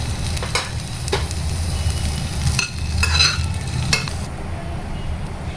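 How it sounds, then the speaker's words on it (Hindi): Dum aloo potatoes frying in a little oil in a kadai, giving a steady close sizzle with a few sharp scrapes and clinks from stirring. "ये जो आलू है दम आलू, इसको हम फ्राई कर लेंगे।"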